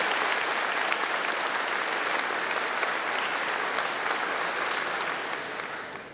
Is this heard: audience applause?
yes